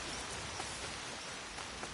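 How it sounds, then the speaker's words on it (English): Steady rain falls in the video game Assassin's Creed Shadows, a dense, even hiss of drops on surfaces with no speech over it. "And it's raining."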